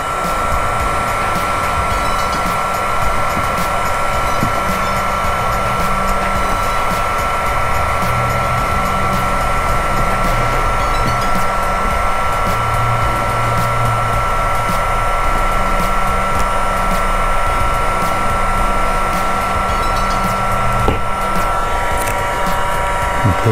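A hot-air gun blows with a steady, loud, unbroken whir while heating vinyl graphics on a 2011 Trailmanor 2720 SL camper, with faint low tones underneath.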